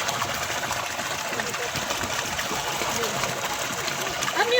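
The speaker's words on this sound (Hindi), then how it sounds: "पानी की जो वाइब है ना उसका अपना ही मज़ा है और इसकी आवाज़ आप लोग एंजॉय कर सकते हैं" Water flowing and gushing steadily in a natural swimming pool, a continuous broadband rush heard close up and fairly loud throughout.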